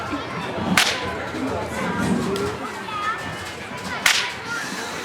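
Two sharp whip cracks ring out a few seconds apart, loud and close, while people chatter and talk throughout.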